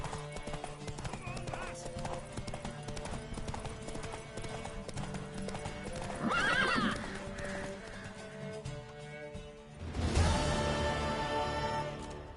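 Steady clip-clop of horse hooves trotting along in a PS4 video game under a backdrop of music, with a whinny midway and a louder burst of sound near the end.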